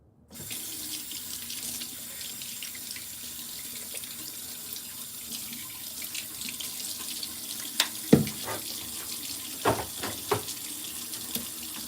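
Water runs steadily from a bathroom tap into a sink while face wash is rinsed off, a continuous close hiss with occasional splashes and hand movements breaking the flow.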